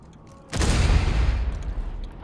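Explosion set off by a player in the Escape From Tarkov video game, a sudden loud blast breaking quiet background, followed by a long rumbling decay lasting well over a second.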